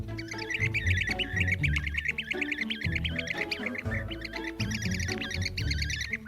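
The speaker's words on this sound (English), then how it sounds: "That is bee-eater, also known as bee-eating bird" Bee-eaters call from a colony in eroded earth cliffs riddled with small nest holes in the Masai Mara, producing a busy, continuous overlapping stream of rolling, trilling chirps from many birds close by.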